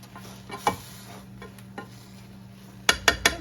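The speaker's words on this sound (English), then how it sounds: "Stirring in the contents." Food being stirred in a pot on a home stove: a spoon scrapes and clinks against the metal several times, sparse at first, then a quick cluster of three sharp taps near the end, over a faint steady hum.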